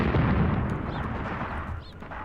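Continuous loud rumbling explosions and artillery fire from a WWII tank battle video game set in Tunisia in 1943, a dense, booming wash of blasts with no pauses.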